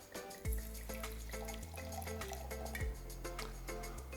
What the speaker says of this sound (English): I'll pour a little for you.